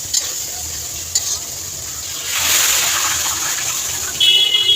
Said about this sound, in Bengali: আদা আর পেঁয়াজ একসঙ্গেই লাল করি, তাহলে একটু তাড়াতাড়ি হয়ে যাবে